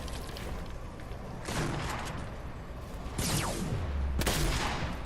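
Fortnite gunfire during a solo competitive match, with a few sharp shots and short bursts ringing out over a steady background of game ambience, fairly loud and spaced a second or so apart.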